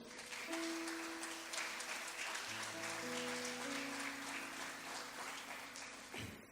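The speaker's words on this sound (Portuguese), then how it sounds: "Pode aplaudir ao Senhor." A church congregation applauds at an evening service, a soft, steady wash of clapping with sustained organ or keyboard tones ringing underneath, fading out near the end.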